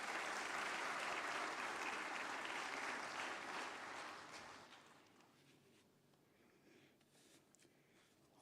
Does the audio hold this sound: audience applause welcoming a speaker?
yes